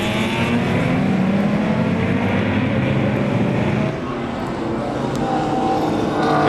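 A field of BMW M race cars in the 2025 M Performance Parts Race Series charges off the start, their engines blending into a sustained loud roar that dips briefly and then builds again.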